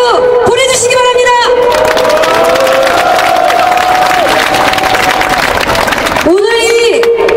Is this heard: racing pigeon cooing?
no